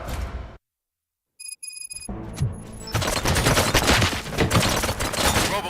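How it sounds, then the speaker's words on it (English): Gunfire erupts in RoboCop: Rogue City on Xbox Series X|S: after a brief silence and a few electronic tones, a dense, loud, continuous volley of shots runs for about three seconds. "Gunshots? What's going on?"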